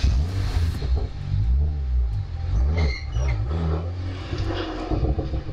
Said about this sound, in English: they stall it before revving up for attempt two.